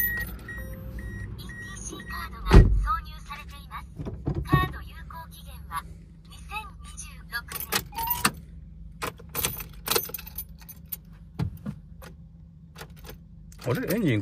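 Car keys jangle in a Toyota Succeed van, with a loud metallic rattle and then a second shorter jingle. Scattered clicks and interior handling noises follow, and a voice speaks now and then.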